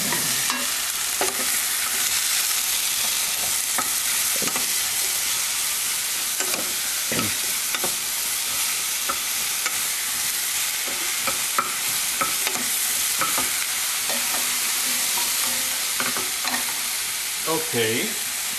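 Tomato and carrot soup cooks in pots on a stove, giving a continuous bright hiss and sizzle with occasional stirring clinks and scrapes, steady and close, with no voices.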